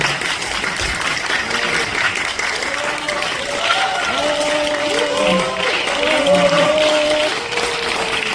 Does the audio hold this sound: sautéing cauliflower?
no